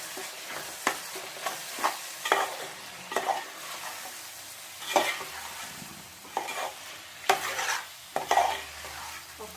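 Cauliflower and tomatoes fry with salt in a pan, a steady sizzle broken by repeated scraping stirs and sharp clinks of a spoon against the metal, close and fairly loud with no talking.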